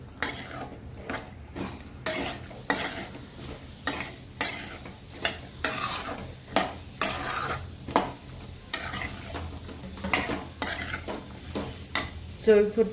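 A spoon scraping and stirring cauliflower, peas and potatoes in butter in a pan, regular strokes roughly every second over a low sizzle, with occasional metallic clinks and no talking.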